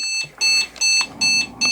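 An Asus Z170-P motherboard sounds a sequence of four loud, evenly spaced high-pitched electronic beeps, each about a quarter second long, with faint room noise and a soft knock in between.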